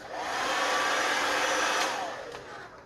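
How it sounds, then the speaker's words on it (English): A hair dryer blows steadily with a loud, broadband rushing whoosh, then winds down toward the end. "you actually turned on the hairdryer"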